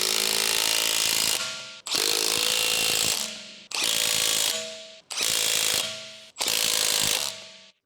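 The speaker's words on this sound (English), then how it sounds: "Use a 19mm deep socket with an electric impact wrench." Electric impact wrench with a 19mm deep socket tightening lug nuts on a 2013-2019 Ford Fusion, five loud hammering bursts of about a second each separated by short pauses, close up and without talk.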